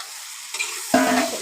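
Lentils tipped into a pan of sizzling five-spice tempering, a quiet hiss that jumps to a sudden loud sizzle as they hit the hot oil, close and brief.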